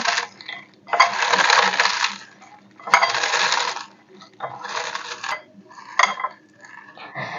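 Potato chips are crushed into crumbs in a series of loud crackling bursts, each lasting about a second, separated by brief pauses, up close and alone.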